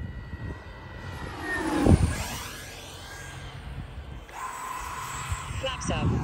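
Freewing F-35 70mm EDF radio-controlled model jet flying in gusty crosswind, its ducted-fan whine swelling and fading as it passes overhead, steady airy roar throughout.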